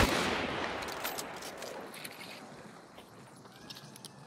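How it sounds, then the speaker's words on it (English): Gunshots fired into the sky in Hunt: Showdown, a loud initial shot with crackling echo that decays over several seconds, followed by a few fainter scattered clicks and rustles. "we're going to do a memorial shooting for you, okay? Okay, we aim at sky"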